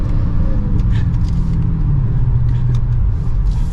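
2022 Dodge Charger SRT Hellcat Widebody accelerating, a loud, deep, continuous engine rumble heard from inside the cabin, holding steady with a slight rise in pitch over a few seconds.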